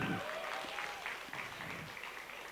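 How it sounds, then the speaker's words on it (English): Audience applause fills an auditorium at an esports finale, a steady wash of clapping that holds at even volume throughout with no voices standing out. "Can we have a round of applause for that?"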